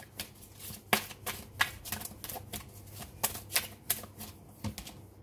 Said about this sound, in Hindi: यहाँ से कार्ड्स निकालते हैं